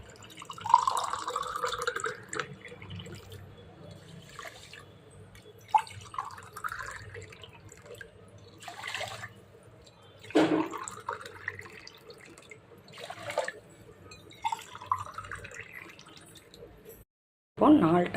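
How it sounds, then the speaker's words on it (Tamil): Four tumblers of water are poured onto two tumblers of rice, heard as several separate pours and splashes into a vessel, each a short gush with quiet drips and pauses between. "4 டம்ளர் தண்ணி ஊற்ற போகிறோம்."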